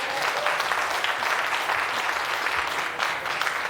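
Seniors in the audience at a joint government committee hearing break into steady applause, a dense, sustained clapping that fills the room for several seconds without any voices over it.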